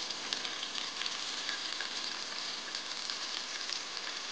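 Onions sizzle steadily in hot oil in a pan for kaleji fry, a close, even crackling hiss with small pops and no voices.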